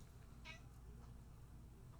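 Luna the cat gives a single short, soft meow, faint and close, over a low background rumble.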